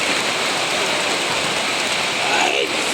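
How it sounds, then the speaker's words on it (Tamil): Steady heavy rain pours down on the exit path of Edakkal Caves, a dense, even hiss that fills the whole stretch with no breaks and no voices. "மழை ஸ்டார்ட் ஆயிடுச்சு."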